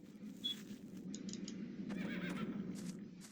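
A horse whinnies in a long, wavering neigh amid soft hoof clops and light tapping, fairly quiet and with no talking, in the video game The Black Mirror.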